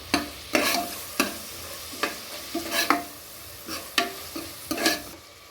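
Spoon scraping and stirring turmeric and spices into tomato basmati rice in a pan, about ten distinct rhythmic strokes at close range with a faint sizzle underneath.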